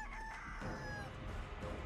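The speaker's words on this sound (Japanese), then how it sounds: "早くニワトリどっか行って" A giant chicken crows in a horror video game, a steady, continuous crowing call running throughout over a constant low game backdrop.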